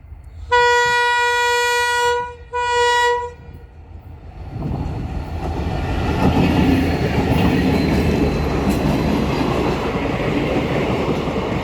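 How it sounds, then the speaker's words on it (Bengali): A DEMU passenger train in Karimganj sounds two loud horn blasts, long then short, followed by the rising rumble and clatter of the train rolling past nearby. "এখানে হইল ডেমো ট্রেন"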